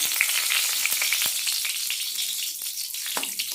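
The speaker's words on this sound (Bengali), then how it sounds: "তেজপাতাটাকে হালকা ভেজে নেব" A torn bay leaf frying in hot white oil in a wok, a steady bright sizzle with scattered sharp pops and crackles, close and continuous.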